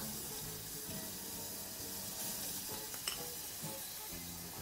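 Minced garlic frying in a dash of olive oil in a pan: quiet, steady sizzling hiss with a couple of faint utensil clicks near the end, heard up close without talk.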